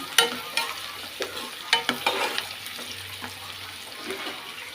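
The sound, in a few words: stirring onions, green chillies and turmeric in a frying pan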